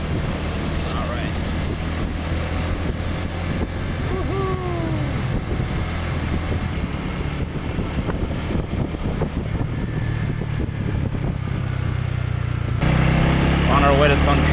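Engine and road noise from a truck riding along a road in Da Nang, a steady rumble with wind buffeting and a louder surge near the end.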